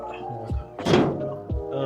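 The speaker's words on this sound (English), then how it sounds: "Yeah, no, I got the door open." An old barn-find car's door is worked open: low thunks and a brief metallic scrape with creaking up close, while people talk nearby.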